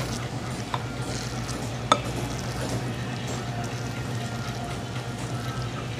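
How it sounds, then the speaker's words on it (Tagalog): A spoon works through a sticky glutinous rice and ube mixture for rolls, soft wet scraping and stirring close by with a single sharp clink partway through, and no voices. "we will mix it well until it all got the ube"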